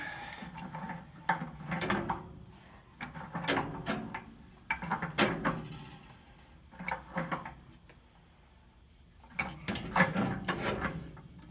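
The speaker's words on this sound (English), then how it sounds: "Grab the pipe wrench. Tighten that fitting up." A pipe wrench tightens a union fitting on a water heater, giving repeated close metallic grinding and ratcheting strokes in bursts every couple of seconds, separated by brief quiet gaps.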